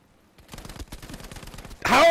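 Lewis Gun firing in Battlefield 5, a rapid burst of close machine-gun shots in a steady rhythm lasting about a second and a half, followed by a louder, brighter burst of noise at the end.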